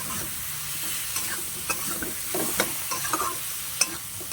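Cabbage stirred and frying in a pan, a steady close sizzle broken by scattered scrapes and clicks of a spatula, with no voices.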